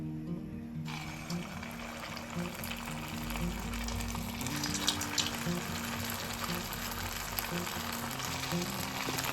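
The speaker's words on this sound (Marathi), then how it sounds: "तर ह्यात आपण छोटे छोटे पकोडे सोडून घ्यायचे आहे" Small pakoras sizzling steadily as they fry in hot oil in a kadai on a gas stove, a continuous loud crackling hiss with no talking.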